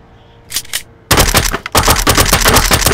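A purple MP5 in a video game fires rapid bursts, a couple of short shots first, then sustained loud automatic fire with brief gaps.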